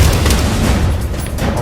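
A mortar explosion in a military shooter video game lands as a loud, close boom with a rumbling tail of gunfire-like crackle, filling the short moment.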